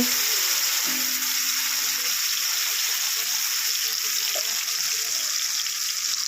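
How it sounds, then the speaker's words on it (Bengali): A constant, loud hiss of spices frying in hot oil in a kadai, steady throughout with only faint clinks in the background. "কড়াইতে তেল গরম হয়ে গেল এখন মশলাগুলোকে ভেজে নেওয়া হবে"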